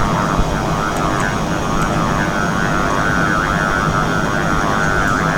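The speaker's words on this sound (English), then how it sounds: "There goes our AIM-7." A jet roars steadily through an AIM-7 missile launch in a flight combat video game, a constant loud whooshing engine drone with no speech over it.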